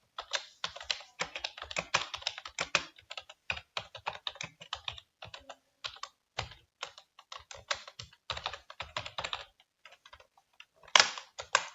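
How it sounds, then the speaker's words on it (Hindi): A computer keyboard is typed on in rapid, irregular bursts of clicking keys, close and fairly quiet, with brief pauses and no voices. "अभी मैं इसको लिखता हूँ कि मुझे डिकोड करके दो।"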